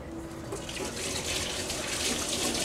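Tap water runs steadily from a kitchen faucet into a sink as hands are washed before cooking, a continuous close splashing rush that stays fairly even and slightly swells toward the end.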